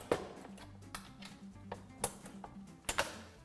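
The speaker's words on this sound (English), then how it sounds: "New primer in." A shotgun shell being primed on a reloading press, with a few sharp mechanical clicks and taps at irregular intervals over a low background hum, close and fairly quiet.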